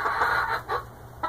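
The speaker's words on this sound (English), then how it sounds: "these are my chickens" Backyard chickens cluck in a few short bursts close by, with soft, faint calls and no talking over them.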